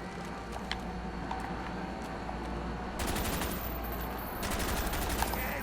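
RPK machine gun in Call of Duty Black Ops zombies on the Nacht map, firing sustained full-auto bursts that swell louder in two stretches over faint game background.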